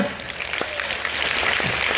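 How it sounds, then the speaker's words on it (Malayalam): Audience applause at a talk on RCM company products, a dense steady wash of many hands clapping that builds slightly, heard from within the crowd with a few sharper claps. "അവരെല്ലാവരും നല്ലൊരു കൈയടി അടിക്കുക"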